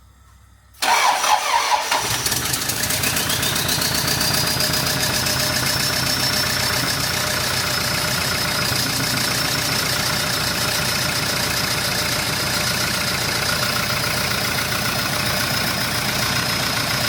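A Toyota Land Cruiser 70 series, not run since it was acquired, cranks and fires up, then settles into a steady, loud idle that holds unbroken for the rest of the clip.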